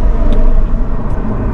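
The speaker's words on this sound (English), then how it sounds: "There's a car here." A car rolls past nearby outside a cinema, its engine and tyre rumble loud and continuous, a low steady roar that wavers slightly throughout with no talking.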